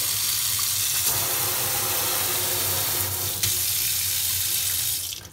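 Water gushes steadily from a Grohe pull-out faucet spray head, a replacement fitted without check valves or flow restrictors, making a strong, even splashing hiss that runs unbroken and then cuts off at the end.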